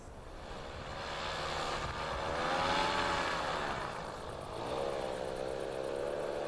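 A paramotor's steady droning engine with a wavering pitch that rises and falls, continuous and fairly close, with wind noise underneath, flying over the ruins of Carthage.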